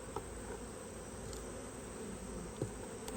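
Honey bees at an open hive in a wooded yard make a steady, soft, continuous hum, faint and even throughout with no talk.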